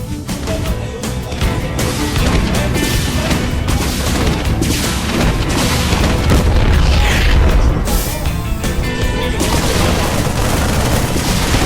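Attacks strike an engineering bay in a StarCraft II match: dense, loud, continuous booms and rapid gunfire-like blasts with no break.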